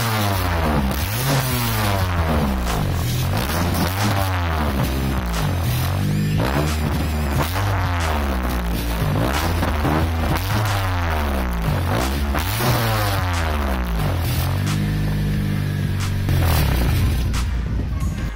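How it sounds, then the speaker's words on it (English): A car built on a seventh-generation Honda Accord with chrome-tipped twin exhaust mufflers is revved repeatedly from inside the cabin, its engine tone rising and falling in a steady pulsing rhythm, loud and close with no talking. "I'll just get inside the car and make you hear the beautiful sound of it"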